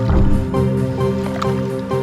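Light punches on a wet blanket soaked in detergent water, giving soft, repeated squishy slaps and sloshing close by with no talking.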